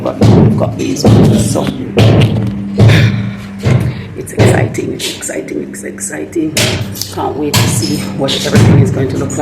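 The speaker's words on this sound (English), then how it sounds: "That's the thud sound you're hearing as they hit through that to be able to get to the back room" Repeated heavy thuds and bangs from workers breaking through a wall on a building site in Jamaica, near and loud at an irregular rhythm, with a person talking over the impacts.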